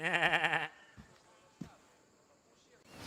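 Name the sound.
goat bleating in the video game Assassin's Creed Odyssey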